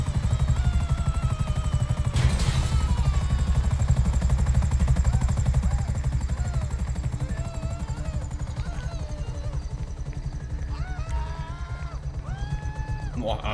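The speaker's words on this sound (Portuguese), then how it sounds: "Já faz aquela limpa antes de eu pousar o helicóptero." A helicopter in GTA V comes in to land, its rotor throbbing in a steady, fast low chop that runs the whole time, with mechanical creaks and a brief voice over it.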